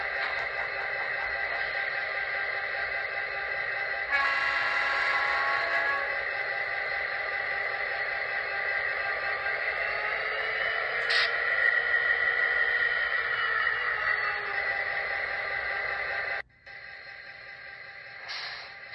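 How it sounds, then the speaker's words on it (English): A Broadway Limited model locomotive runs after a CV setting change made it quieter, giving a steady, continuous electronic engine hum with a slight tonal shift partway through and a brief dropout near the end. "Now let's see how the locomotive sounds with that CV changed."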